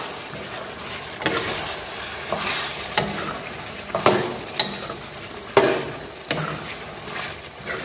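A pan of spices with black pepper and crushed cumin is roasted and stirred, giving a low sizzle broken by scraping spoon strokes in an irregular rhythm, close and moderately quiet.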